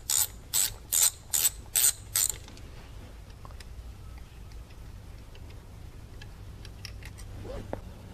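A ratchet with an 8mm socket turns an ignition coil bolt on a Suzuki SX4. It gives six quick, loud, evenly spaced clicking bursts, and then a quiet workshop hush follows with faint small clinks.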